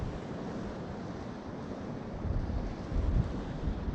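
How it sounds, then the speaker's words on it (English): Strong wind blows across the sea shore by a pier at South Shields, a loud, steady rumbling roar that buffets the microphone and swells toward the end, with no voices. "Just a shame about the wind, really. The wind's kind of spoilt the comfort."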